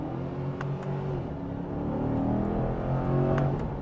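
A Corvette C8 engine shifts through revs, its pitch stepping and sliding as it drops gears and pulls again, a moderately loud, continuous drone heard from inside or near the car.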